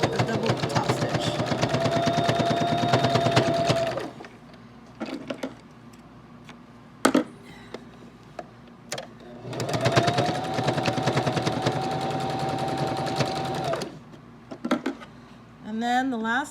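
Sewing machine top stitching a fabric mask, running in two steady whirring bursts of about four seconds each, separated by a quieter pause with light handling clicks.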